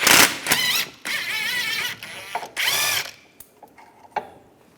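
Bursts from a power tool with an 18mm socket spin out a rear shock bolt on a 2004-2010 BMW X3 during control arm bushing work. Three loud whirring runs come close up, separated by short pauses and faint clicks.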